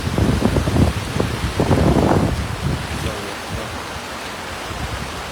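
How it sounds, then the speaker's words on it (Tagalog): Heavy rain and gusting wind sweep over a river near Tubod Bridge in Mahayahay, a loud broadband rush with stronger buffeting early on that eases into a steady roar. "Kusog ang ulan ug ang hangin."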